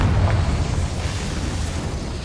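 A Confringo fire spell from Hogwarts Legacy explodes as a loud, sustained booming roar. Heavy low rumble fills the whole moment and then slowly eases off.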